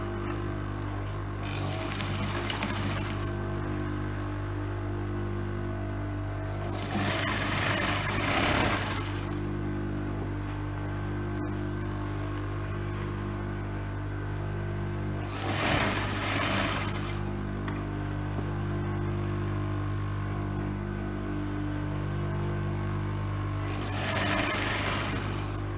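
A sewing machine stitches a trouser in several short runs of a few seconds each, its quick whirring rising over a steady low engine-like hum that continues throughout.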